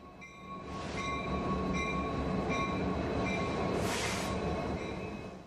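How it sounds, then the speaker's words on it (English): A freight train pulled by diesel-electric locomotives rumbles past nearby in Eugene, Oregon, wheels clattering over the rails with a steady tonal whine and a brief hissing burst near the end. "This freight train is being pulled through Eugene, Oregon by locomotives."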